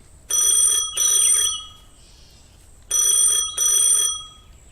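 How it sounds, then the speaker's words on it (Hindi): A telephone bell rings in two double bursts, each ring a bright metallic trill, with a short pause between pairs; close and clear. "तभी उसका फोन बजता है"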